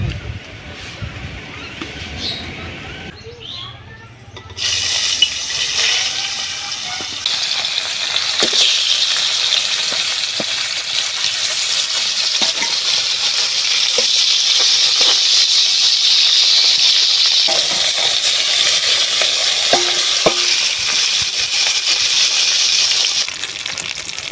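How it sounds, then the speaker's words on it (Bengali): Snakehead fish fry in hot oil in a wok, a loud, steady broadband hiss and sizzle that swells after a few seconds and holds continuously, with small crackles and pops scattered throughout. "কড়াইতে তেল দিয়ে প্রথমে শোল মাছগুলো"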